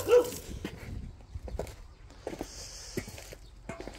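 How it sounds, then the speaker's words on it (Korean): A dog in a garden after rain gives a single short bark at the start, followed by faint whimpers, soft thuds and light rustling nearby. "그래 짖어라 짖어"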